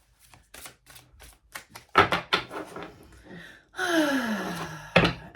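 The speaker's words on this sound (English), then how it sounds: "I'm just going to keep on shuffling" Tarot cards shuffled by hand in a series of quick riffling bursts and soft taps, close and fairly quiet, followed by a longer rustle and a brief vocal sound.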